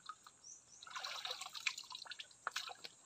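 Water from a spring running and dripping, with a steady faint trickle and scattered sharp drips, close and fairly quiet, with no talk.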